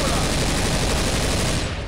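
Dense, continuous gunfire fills the clip from the Left 4 Dead 2 co-op zombie shooter as players fire on Tank bosses, a loud unbroken rattle of rapid shots with faint voices beneath.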